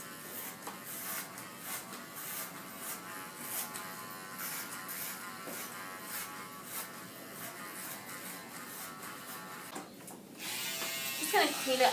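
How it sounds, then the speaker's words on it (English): T-edger hair trimmer buzzing in short passes while cleaning up a client's neckline edges at a salon, a faint close electric hum with a brief louder burst near the end. "I'm going to go around with my T-edgers and just clean up her edges to make a nice neckline"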